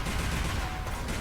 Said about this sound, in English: Rapid fire rocket launcher.